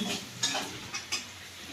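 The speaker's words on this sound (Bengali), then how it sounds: "দেখুন এটাকে আমি একটু ঘেঁটে নিচ্ছি" A spoon stirs coriander and cumin into a curry in a pan on low heat, with soft scraping strokes and a faint sizzle beneath, a few sharper scrapes standing out, close and steady.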